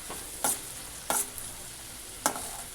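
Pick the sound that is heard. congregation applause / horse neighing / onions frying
onions frying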